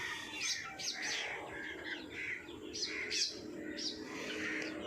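Young chicks, placed in a small poultry house a few days earlier and grown large, chirp continuously in bright, high overlapping peeps that rise and fall close by throughout.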